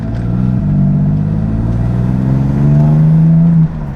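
A BMW M340i with a dual-clutch transmission pulls hard, its engine note climbing loud and close, dropping briefly at a quick gearshift, then rising again.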